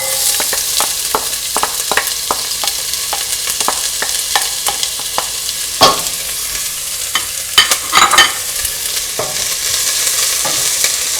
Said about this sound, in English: And remember, it should sputter.